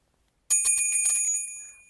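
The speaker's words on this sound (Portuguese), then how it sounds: "acione o sininho." A bright notification bell chime, the kind used to prompt channel subscriptions, rings once after a brief silence. Its shimmering tone rings out clearly and alone, then fades over about a second and a half.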